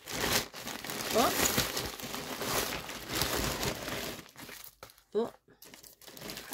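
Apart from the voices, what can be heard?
crinkling packaging of a parcel being opened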